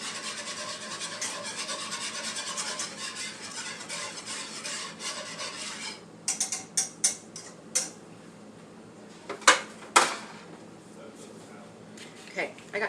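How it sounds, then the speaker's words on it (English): Melted oils in a frying pot stirred with a whisk, a steady scraping swish for several seconds, then scattered sharp clinks and taps against the pot, close and moderately loud. "I'm going to go grab a whisk so I can get this all stirred in even"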